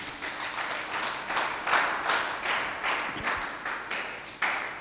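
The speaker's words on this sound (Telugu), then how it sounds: "గట్టిగా చప్పట్లు కొట్టాలి." A church congregation at a sermon claps in loud rhythmic bursts, repeated waves of applause swelling and fading steadily with no talk over them.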